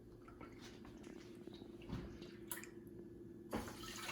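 Almond milk is poured into a cooking pot, a soft continuous liquid stream with gentle splashing and a couple of brief drips, quiet and close.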